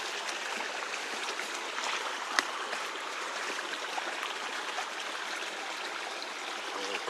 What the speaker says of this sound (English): And you can see the running water.